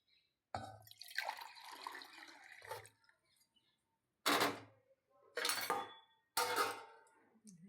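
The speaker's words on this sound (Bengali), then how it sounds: "এই যে এখন ঢেলে নিচ্ছি" Oral rehydration solution is poured into a glass in several separate bursts, each a close, splashing liquid pour with clinks, separated by short silences.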